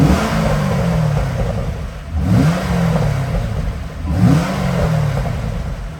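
A 2012 Corvette Grand Sport 3LT runs with its exhaust ports closed, the engine blipped in three loud rising revs that fall back to a rumbling idle between them, close by with no talk.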